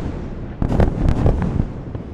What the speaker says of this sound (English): The sound of explosions roared as dozens of fighter jets bombed what Israel said were underground tunnels used by Hamas